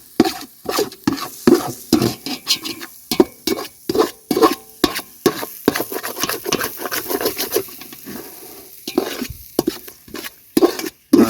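A spatula stirs and scrapes a sizzling gravy in a pan for noodles made with tapioca, in a rhythmic run of close, sharp pats and clatters over a soft frying hiss.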